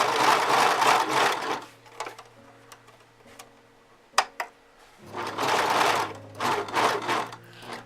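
Model 1034D serger overlocker stitching stretch fabric while the thread is calibrated, running in two fast whirring bursts with a quieter ticking, clicking pause between them, close up and with no voices.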